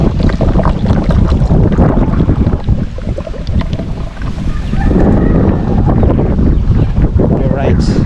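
Wind buffets a microphone in loud, rough gusts, with muffled voices and clatter mixed underneath.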